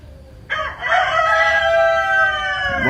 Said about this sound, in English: Why do chickens move like that, though?